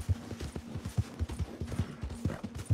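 Horse hooves clip-clop at a steady trotting rhythm in Red Dead Redemption 2, close and distinct, with a faint low hum beneath.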